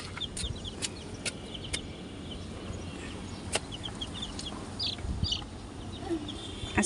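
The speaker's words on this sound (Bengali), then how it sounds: "ওই যে তোমার পিছে মুরগি যাচ্ছে" Chickens cluck softly nearby in the morning, with scattered short clucks and bird calls over a faint outdoor background and no talk.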